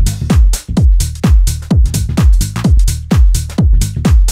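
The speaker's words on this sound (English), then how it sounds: "So the bass with the drums sounds like this." Deep house drums and bass: a punchy kick with pitch-dropping deep bass notes repeats in a steady driving groove, with snares and hi-hats cutting through, loud and close with no voices.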